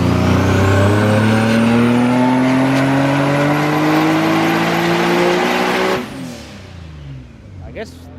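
A turbocharged Nissan 370Z roars on a dyno, its engine note climbing steadily and loudly through a full pull for about six seconds before abruptly cutting off to a quieter idle and faint background noise.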